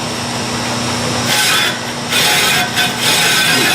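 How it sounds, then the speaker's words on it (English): A metal lathe cuts a 3-degree taper on a steel steam speeder wheel using the compound rest, giving a loud continuous grinding, scraping hum with a steady motor tone that swells as the tool bites. "now I'm going to start the taper using the compound right here"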